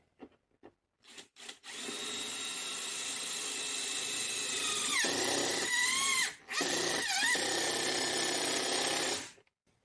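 Cordless impact driver fastening a bolt while installing a truck topper, a loud continuous whirring drive that runs for several seconds with a couple of brief pauses, preceded by a few short knocks and handling sounds.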